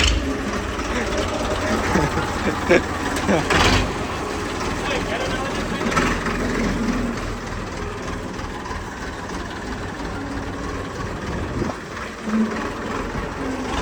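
A tractor engine idles in a village yard as it is parked, a steady low rumble running under people talking.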